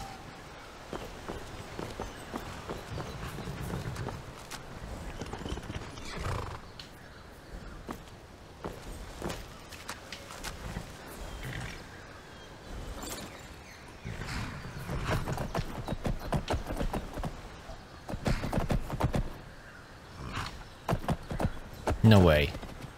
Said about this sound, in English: Whose horse are you?